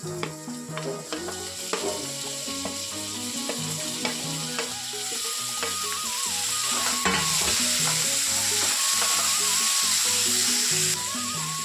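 Tomato sizzles and fries in a pan for a methi dish while being stirred, a steady close crackle that grows slightly louder, with a musical backing underneath.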